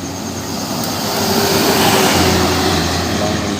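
Kurnia intercity bus of the KAP group passing on the road, a loud steady broadband roar that swells toward the middle and then eases slightly, with no voices over it.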